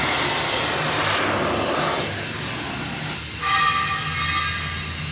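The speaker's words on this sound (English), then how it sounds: "So we're heating up some steel right now to throw some welds down." Steel preheated for welding in a fabrication shop gives off a loud, steady roaring torch-like rush with a low hum, briefly dipping midway and then resuming alongside thin high whining tones, with no talking.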